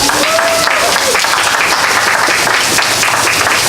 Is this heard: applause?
yes